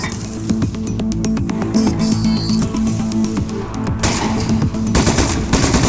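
Rapid gunfire from a desk-mounted weapon in the Aperture Desk Job game, a loud dense stream of crackling shots with metallic clinks running continuously and close.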